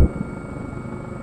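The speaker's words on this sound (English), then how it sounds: "Enemy helo close." A steady Huey helicopter rotor drone in a video game hums at a distance, brief and unchanging, with no one speaking.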